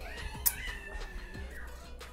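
A house cat meows softly a couple of times in the background of a quiet room, faint and brief against low ambient noise.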